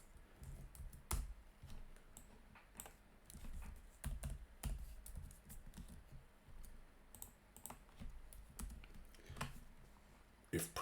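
Code goes in through a computer keyboard in a series of fast, irregular keystroke clicks, close and quiet, with short pauses between bursts and no talking.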